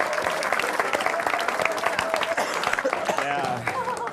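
An audience applauds at a televised stand-up comedy show, dense sustained clapping from a crowd with a voice speaking over it.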